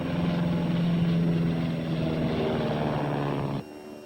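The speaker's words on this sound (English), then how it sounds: "up in his crop dusting plane right now searching the valley." A propeller crop dusting plane drones loudly overhead with a steady, throbbing engine hum that holds for several seconds, then cuts off abruptly.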